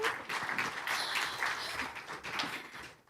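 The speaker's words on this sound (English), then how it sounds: "Let's clap for her." Audience clapping at the 2024 ICP World Convention for a woman presenter, a steady wash of applause lasting a few seconds before fading out, with no voices on top.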